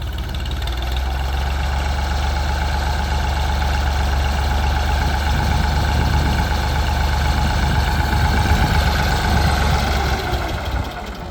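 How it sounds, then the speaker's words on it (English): A tractor engine runs under heavy load in reverse high, a loud, close, continuous low drone that labors and bogs down, with a rough knocking undertone and no voices. "you can hear the tractor starting to bog down"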